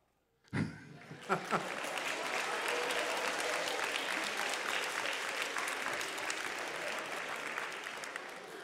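An audience at a middle school band spring concert bursts into applause after a sharp first clap, swelling into steady, sustained clapping that slowly tapers off.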